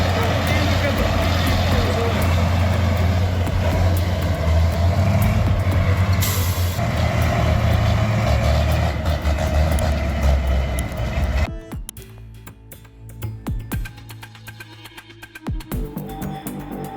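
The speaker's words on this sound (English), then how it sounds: "This Soviet-era beast is flexing its muscles, pulling the log truck out of the mud." A Soviet-era truck straining to pull a log truck out of mud, its heavy diesel engine roaring loudly and continuously before dropping off sharply, leaving lower rumbling and scattered knocks with some voices in the background.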